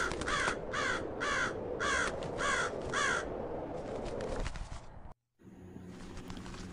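A crow caws six times in a fast, evenly spaced run, loud and near, over low background noise that carries on after the calls stop.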